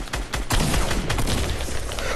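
Fortnite Battle Royale shotgun fire during a close fight: several loud, sharp blasts in quick succession amid a dense, noisy wash of game action, all close and heavy throughout the short burst.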